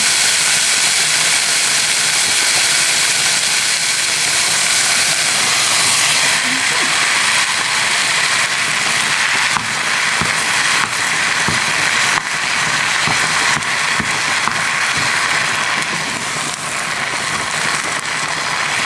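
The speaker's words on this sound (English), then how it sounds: "I'm just going to brown up the hamburger and the onions" Hamburger meat and onions browning in a hot pan, a loud, steady broadband sizzle with scattered crackles and pops, under occasional talk.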